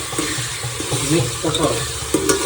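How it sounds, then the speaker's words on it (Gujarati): A mixed pulses curry cooks in a pan, giving a short burst of close stirring and soft sizzling with light clinks of the spoon, continuous and moderately loud. "વાહ મિક્સ કઠોળ બની રહ્યું છે શાક"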